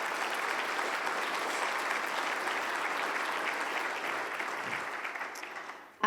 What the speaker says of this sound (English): I would love to give them a round of applause.